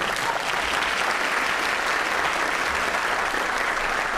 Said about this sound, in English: And a round of applause for these two.